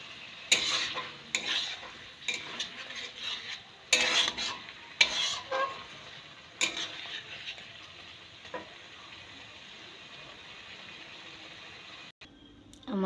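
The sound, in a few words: prawns frying and being stirred in a pan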